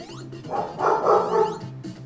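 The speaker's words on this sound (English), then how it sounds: "Sorry about the barking in the background." A pet dog barks in the background during a Sonic 3 & Knuckles game session, a few moderately loud bursts in the middle of the clip with quieter moments before and after.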